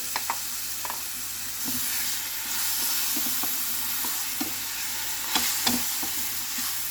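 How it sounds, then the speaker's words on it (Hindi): Mashed brinjal fries in an onion-garlic tempering with a steady sizzle, stirred now and then with soft scraping clicks of a spoon against the pan. "अब इस स्टेज पर हम बैंगन को डाल देंगे।"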